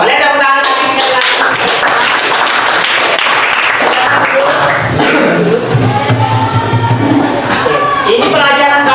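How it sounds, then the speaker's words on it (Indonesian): A classroom of students claps together at a teacher's request, a loud, dense burst of applause lasting several seconds, with some voices and chatter mixed into the clapping. "Boleh tepuk tangan lagi sekali lagi."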